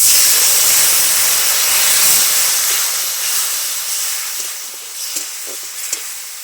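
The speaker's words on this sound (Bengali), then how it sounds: "মশলাটা যাতে না পুড়ে তার জন্য পরিমাণ মতন জল দিয়ে দিচ্ছি" Water poured onto hot frying spice masala with ground cumin erupts into a loud, steady steamy hiss and sizzle that gradually eases, with faint stirring clicks toward the end and no talk.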